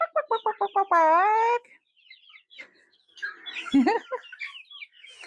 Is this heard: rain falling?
no